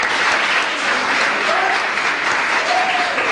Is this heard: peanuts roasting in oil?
no